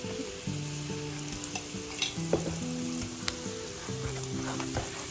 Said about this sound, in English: the garlic is starting to brown, I'm going to go ahead and put in a whole spoonful of chili